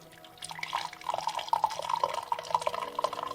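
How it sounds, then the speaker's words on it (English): Boiling water is poured over a dandelion coffee substitute, a close, trickling and splashing stream of liquid with small drips that builds after a quiet start. "pour boiling water"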